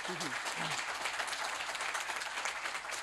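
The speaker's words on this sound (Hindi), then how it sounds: "तो अपनी तालियों से बता सकते हैं?" Quiet, steady clapping from an audience at an executive development programme session, a continuous wash of applause after a brief voice at the start.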